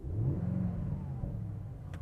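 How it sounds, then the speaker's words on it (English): A Mercedes-AMG GLE 63 S Coupe V8 engine cranks and catches, settling into a deep, throaty idle with a brief rev, close by and alone. "with this car, all you want to hear is the V8"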